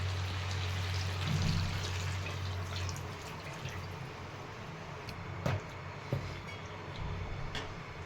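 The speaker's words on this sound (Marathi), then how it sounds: "आणि आता हे सूप टाकणार आहे त्यामध्ये" Stock pours steadily into a pot of chicken pulao for several seconds, a continuous watery rush with a couple of brief clinks near the end.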